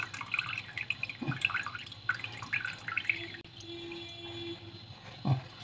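Water trickles and drips out of a strainer while draining from melted butter preparation in a kitchen, with soft irregular splashes close by and a faint hum in the background.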